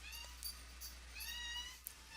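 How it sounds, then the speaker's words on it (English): A house cat gives a few drawn-out, plaintive meows, fairly close and alone over a low steady hum. "Sorry about my cat."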